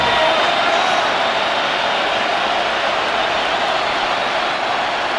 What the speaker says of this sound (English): This crowd, they're trying to force a false start. What noise before 3rd and inches.